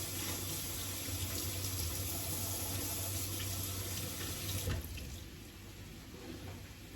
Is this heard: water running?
yes